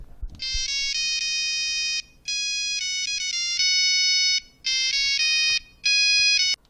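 Nokia 3310 playing a user-composed ringtone melody of a song, a loud monophonic electronic tune in bright beeping phrases with short pauses between them.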